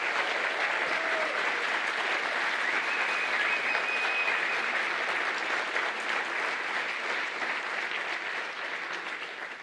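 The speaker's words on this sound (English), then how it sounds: "she just deserves a great round of applause for" Sustained applause from an audience, steady and full throughout, with a slight fade toward the end.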